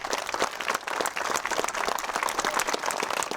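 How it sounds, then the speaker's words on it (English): An audience at the opening of the Clifton Community Campus gives a round of applause for Paul Walton: dense, steady clapping from many hands, fairly close and sustained throughout without any talking. "So if we could give Paul Walton a round of applause."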